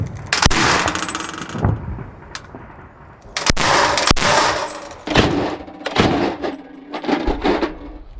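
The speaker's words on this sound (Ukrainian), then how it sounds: "Постріл!" Several sharp, loud gunshot blasts ring out at irregular intervals during combat in Toretsk, Ukraine, each with a rumbling echo trailing off between them.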